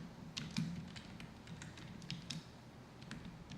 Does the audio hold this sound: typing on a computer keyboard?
yes